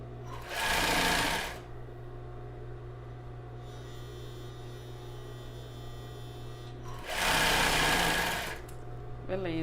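A sewing machine stitches fabric for panties in two loud, whirring bursts, each about a second long, separated by a quiet stretch of steady electrical hum.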